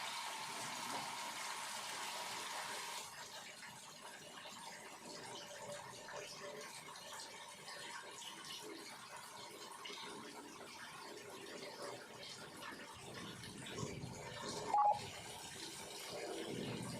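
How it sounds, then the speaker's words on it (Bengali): Starchy water poured off freshly cooked rice in a home kitchen, a steady pouring gush that runs continuously and fairly loud at first, then thins to a softer trickle, with a brief clink near the end. "চলো ভাতটা হয়ে গেছে, ভাতের মাঠটা গেলে ফেলি।"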